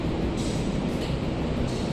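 A train rumbles steadily at Semarang Tawang station with a continuous low rolling drone, faint and distant, with no voices.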